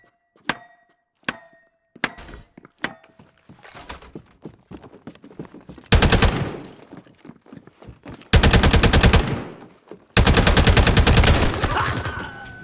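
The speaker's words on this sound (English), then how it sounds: "The SMG is so much better than the other guns." SMG gunfire in the World War II multiplayer game UNITED 1944: a few scattered single shots, then three long, loud sustained automatic bursts, each lasting about two seconds.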